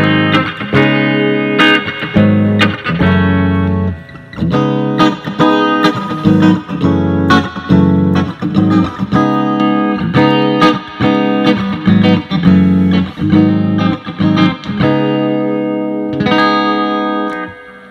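Electric guitar on a Leney 12-inch amp with echo-like reverb, played continuously as a steady run of picked notes and strums, loud and alone with washy trailing repeats.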